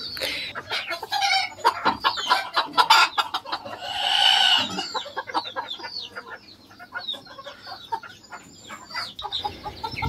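Malaysian fan-tailed ornamental chickens cluck and crow loudly up close in a small farm coop, with a long rooster crow in the middle and busy clucking around it.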